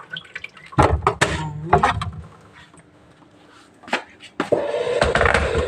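Water is poured into a water heater in short bursts, splashing and trickling close by, with clinks and a steady fill toward the end.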